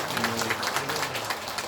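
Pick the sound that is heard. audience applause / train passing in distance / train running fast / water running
audience applause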